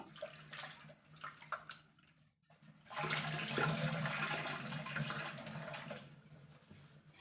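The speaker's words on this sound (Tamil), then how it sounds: "இப்போ இது நல்லா வாஷ் பண்ணிட்டு வந்துடலாம்." Running water from a tap splashing over toor dal lentils being washed, starting with scattered splashes and light handling sounds, then a steady, fairly close stream of rushing water for several seconds.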